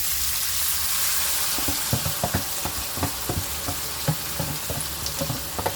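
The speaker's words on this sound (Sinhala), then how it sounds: "සුදුරුණු රටලුණු ටික බැදුනට පස්සේ දැන් අර සෝයා මීට් ටික එකතු කරගන්නවා." Soy meat frying in a pan with onions and garlic for a soy meat curry: a steady hiss of sizzling, joined after a moment by clattering stirs and scrapes of a utensil, close and continuous.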